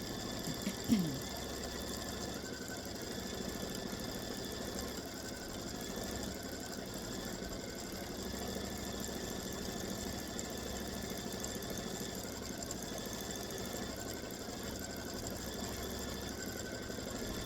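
A longarm quilting machine stitches an edge-to-edge Camellia design, giving a steady, continuous mechanical hum and whir at moderate level that runs evenly throughout with no talking.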